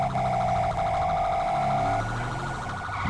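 Police car siren in GTA 5 with the LSPDFR mod, a loud continuous wailing and yelping dual-tone siren sounding close and steady throughout, with no talk.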